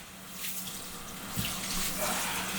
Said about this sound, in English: clean the royal basmati rice